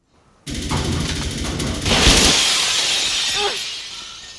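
Gunfire in the video game Saints Row: a dense burst of shots and shattering sounds erupts, swelling to a sustained, loud barrage with sharp crackles riding on top before it trails off.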